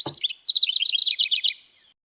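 A wren sings a rapid, bright series of chirping notes in coastal Carpinteria habitat, a clear close song lasting under two seconds after a brief low thump at the start.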